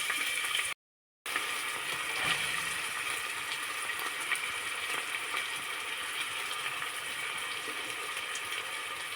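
Steady, broadband sizzling of onion frying with browned garlic in a hot pan, continuous and fairly close, with a brief dropout near the start.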